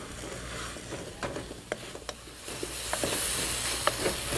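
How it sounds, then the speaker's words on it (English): Apples are sautéed with spices in a hot pan for an Indian chutney, a low sizzle rising gradually with occasional spoon scrapes and taps, close and quiet. "Now we have to saute the apples with those spices for about 5 minutes."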